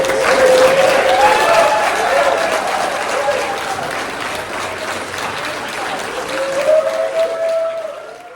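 An audience at a Hawaii cannabis awards show breaks into sustained, dense applause that swells again near the end, with a few voices calling out over the clapping.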